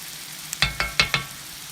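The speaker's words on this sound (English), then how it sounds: "So these are gonna still sear for about 30 to 45 more seconds." Shell-on shrimp searing in garlic butter, a low sizzle punctuated by four quick, evenly spaced clacks of stirring or turning in the pan, close and alone.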